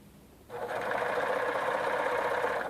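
A portable blindstitch machine starts up and runs in a steady, close mechanical whir for a couple of seconds with no talking.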